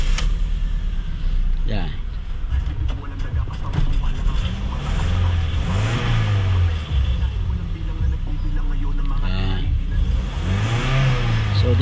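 A Toyota Vios with a long-cranking starting fault turns over at length and then catches, its engine droning and revving loudly and close, while someone talks over it.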